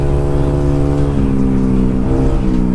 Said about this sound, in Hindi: थोड़ा सा एग्जॉस्ट का साउंड सुना देते हैं आपको इतने दिनों बाद